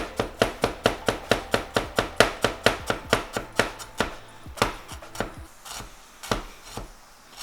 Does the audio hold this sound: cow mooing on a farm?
no